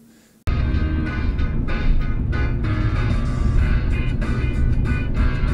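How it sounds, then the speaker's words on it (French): Inside a moving car, a constant low road and engine rumble fills the cabin while a radio plays music over it, starting abruptly and staying loud and steady throughout. "on a un environnement d'une voiture avec la radio qui fonctionne"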